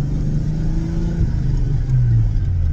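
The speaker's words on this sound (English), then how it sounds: "Oh yeah, it revs now." A car engine idles loudly up close, its pitch rising briefly as it revs, then settling back to a rough idle.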